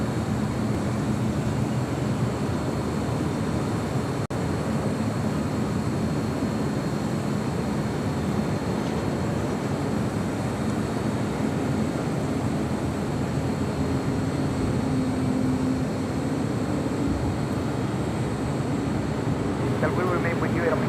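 A jet airliner at LAX, an Emirates A380 among the traffic, gives a steady loud roar that fills the whole stretch, with radio voices of air traffic control talking over it.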